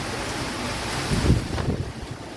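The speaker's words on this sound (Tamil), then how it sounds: "காற்று ஒரு பக்கம் வேகமாக அடிக்குது, மழை ஒரு பக்கம் அங்கிட்டு இங்கிட்டு வேகமாக அடிக்குது." Strong wind roars against the microphone over a wash of heavy rain in Maduravoyal, Chennai, with a louder gusty rumble surging midway, no voices present.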